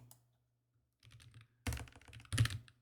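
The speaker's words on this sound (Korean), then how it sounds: "서울시 강남구라고 입력하고 엔터키를 누르면" Someone types on a computer keyboard in brief, quiet clusters of clicks, close by, with short silences in between and a louder keystroke near the end.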